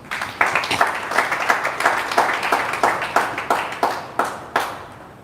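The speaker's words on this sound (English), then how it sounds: "I think in a special way you should clap for yourselves." An audience at a training class on professionalism in network marketing claps for themselves: close, crisp handclaps in a brisk, fairly even rhythm for several seconds without speech.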